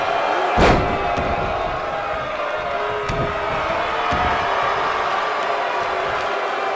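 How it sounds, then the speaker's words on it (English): A wrestler slammed onto the mat lands with a heavy thud early on, with a second duller impact later, over steady crowd noise in a wrestling arena. "Slammed with authority."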